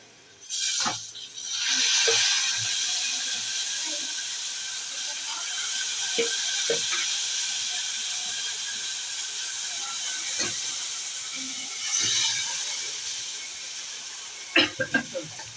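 Dried red chillies drop into hot oil and sizzle with a soft, steady hiss close by, broken by a few sharp clinks and taps of a utensil against the pan.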